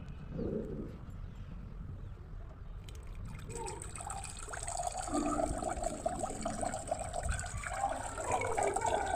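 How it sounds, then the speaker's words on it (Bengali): Water is poured into a container set out for thirsty animals, starting as faint trickling and growing into a fuller, close splashing pour, with birds audible faintly in the background. "দেখেন আমি জল দিচ্ছি"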